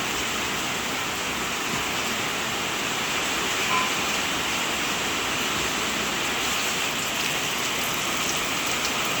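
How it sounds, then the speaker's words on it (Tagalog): Heavy rain pours down steadily and close by, a dense, unbroken hiss of drops striking surfaces throughout, with no voices. "Lakas po ng ulan."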